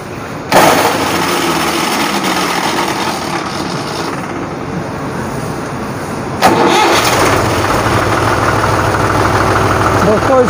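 A tractor engine cranks and starts, then settles into a steady, loud idle nearby, with a brief surge in level partway through as it keeps running.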